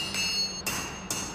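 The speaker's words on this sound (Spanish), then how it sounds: "A golpe de martillo, la vara de acero incandescente se moldea." A hammer forging a glowing steel rod into a sword: two sharp, ringing metallic strikes about half a second apart, close and loud, each leaving a bright ringing tail.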